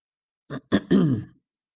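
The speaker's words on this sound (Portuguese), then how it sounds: "Tô com um pouco de pigarro aqui" A short, close throat clearing in a few gravelly bursts, ending in a brief rasp, followed by silence.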